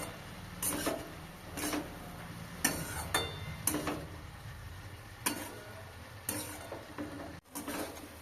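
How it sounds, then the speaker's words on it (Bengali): Spring onion leaves being stirred in a pan, with a string of spaced, soft scraping strokes of the spatula over a faint background sizzle, fairly quiet and close. "পেঁয়াজ পাতাগুলো এবার দিয়ে দেব ভালো করে নাড়াচাড়া করে নেব কাঁচা গন্ধটা যাওয়া অবধি"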